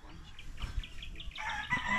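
A large fighting rooster in Siquijor, Philippines, crows in a series of short repeated calls with some clucking, close and fairly loud over outdoor background noise; no talking.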